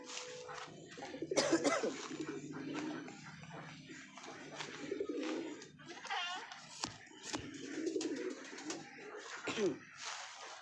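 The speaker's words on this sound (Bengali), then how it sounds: "এখানে আছে সব পায়রাগুলো খাবার খাচ্ছে পায়রা ভিতরেও আছে বাইরেও আছে" Pigeons coo in a loft while feeding, soft low rumbling calls repeating and overlapping, with light fluttering and shuffling nearby.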